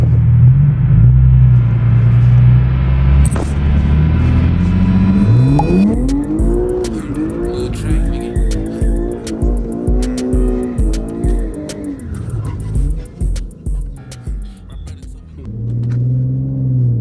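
Infiniti G37 with a single-exit exhaust revving hard, loud and close, with a deep rumbling idle giving way to rising and falling revs and pulsing engine bursts as the tires spin.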